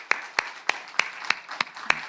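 A church congregation at a Sunday service claps together in steady unison, about seven crisp, evenly spaced claps close by, with no voices.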